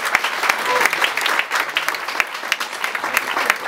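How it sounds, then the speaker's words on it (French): Audience applause after a farewell speech at a golf club gathering, dense steady clapping from a crowd with a few sharp louder claps standing out, continuing throughout with a faint voice or two underneath. "Je voudrais que vous l'applaudissiez"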